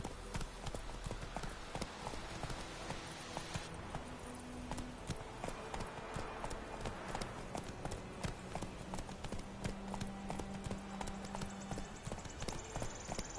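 Rapid, steady hoofbeats of a galloping horse clatter throughout, with faint background tones and occasional quiet voices underneath, in The Witcher 3: Wild Hunt.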